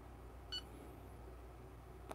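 A kitchen timer gives a short, faint electronic beep as it starts during a pour-over coffee brew, with another brief click near the end over a low, steady room hum.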